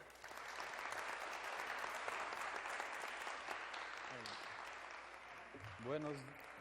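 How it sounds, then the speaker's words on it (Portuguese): Sustained applause from an audience at a talk on Brazilian sparkling wines fills the room evenly, with a brief voice rising at the end as the clapping continues. "Démosle un fuerte aplauso, por favor."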